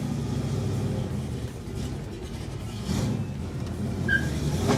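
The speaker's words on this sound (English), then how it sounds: "the sound intensified, letting everyone around know this Camaro meant business" A rare 1969 Chevrolet Camaro muscle car gives a steady, heavy engine rumble that swells in loudness a few times, with no talk over it.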